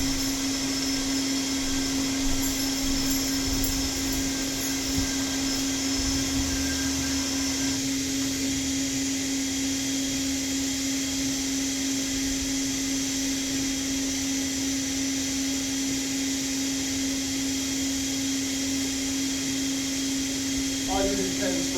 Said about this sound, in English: so that you're not just instantly sucking down to the carpet when you turn the machine on